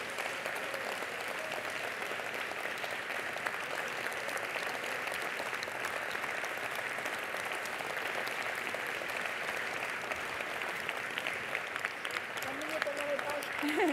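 Sustained applause from a crowd fills the space, dense steady clapping that continues for a long stretch at moderate volume.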